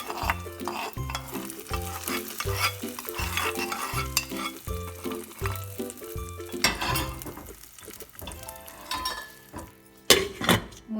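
Tempering stirred into a boiled masala curry in a pot, a continuous sizzle under rhythmic spoon scrapes and clinks against the metal, fairly close, with a sharper clatter near the end.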